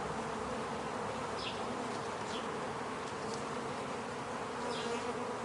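Honeybees buzzing around a very small hive, a dense continuous drone close by, with a few individual bees flying past.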